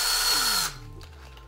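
A power drill fitted with a homemade marker bit whirs loudly at full speed, then cuts off and winds down with a falling whine and faint rattle.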